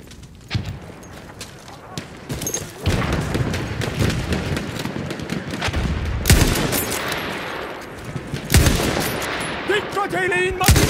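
Machine gun fire in the video game Battlefield 1: rapid bursts of automatic gunfire and scattered shots ring out over a dense battlefield din, loud and close, with a brief shout partly buried in the noise.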